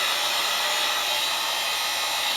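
A heat gun blows hot air onto EVA foam, a loud, steady, even whoosh that fills the whole moment without any pause.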